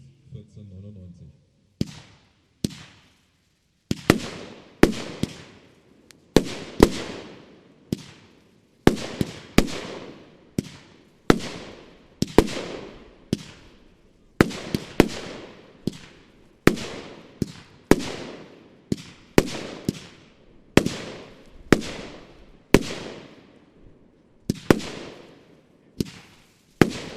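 A Bonfireworks Neon Ghost fireworks battery, 30 mm calibre with 20 shots, fires a steady series of sharp launch thumps and crackling bursts, roughly one per second, loud and close, with no talk over it.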